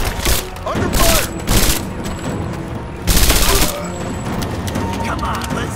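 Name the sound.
gunfire in combat, video game Rise of the Tomb Raider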